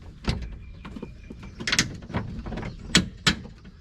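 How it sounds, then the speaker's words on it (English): A metal bolt slides and clunks through a lock on a van, producing several sharp metallic clicks and knocks scattered across a few seconds, close and distinct. "putting that bolt right through there"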